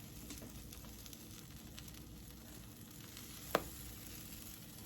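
Breakfast sandwich patties sizzle steadily in a pan, a soft continuous frying hiss throughout with one brief sharp tick near the end.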